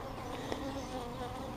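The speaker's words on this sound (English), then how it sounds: "there are like a lot of bees trying to sting me" A dense swarm of honey bees buzzes continuously around an opened hive, a steady close-up drone with shifting pitch and no voices.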